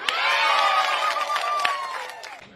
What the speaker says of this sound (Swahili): Wapi makofi ya Mtuse?